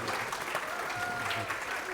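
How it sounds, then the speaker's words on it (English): Audience at a writing-craft literary event claps after a reading, a soft, fairly distant spread of applause with murmuring voices mixed in. "Let's clap."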